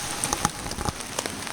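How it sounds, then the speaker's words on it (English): Rain falls in a steady pattering wash, with scattered sharper drops ticking on nearby surfaces. "And it's raining."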